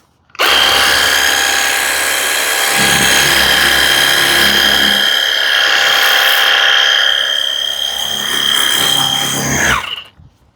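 A BAYU 6-in-1 cordless car-kit pressure washer sprays for about ten seconds, a loud steady motor whine with a hissing water jet that cuts off abruptly at the end.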